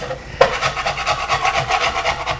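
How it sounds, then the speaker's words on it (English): A spatula scrapes bacon bits from a pan in a steady, close rasping rhythm that repeats without a break and stands alone with no talk. "Next, spatula, and we scrape"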